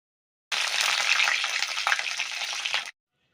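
Shell-on prawns drop into hot oil and fry with a loud, dense sizzle that begins abruptly, holds steady for over two seconds with crackling spits, then cuts off sharply.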